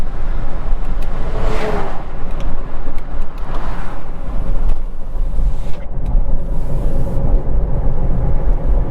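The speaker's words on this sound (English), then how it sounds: "I can hear the tire in the back, the snow tire that's making a lot of noise" Steady low road rumble and broadband tire roar from a high-mileage 2005 Ford Crown Victoria P-71 driving on a noisy rear snow tire, with wind buffeting; no talking.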